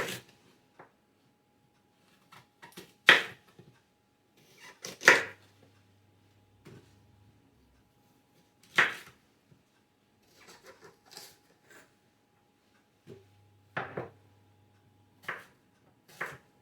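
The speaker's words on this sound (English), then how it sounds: "right now, we're going to start chopping apples." Apples are chopped with a knife on a board in a home kitchen, giving sparse, sharp single knocks and short clusters of cuts separated by quiet pauses.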